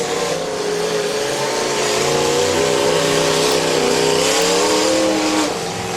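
A demolition derby car's engine revs hard and loud as the driver pumps the gas, its pitch rising and falling in continuous strained surges that drop off at the end.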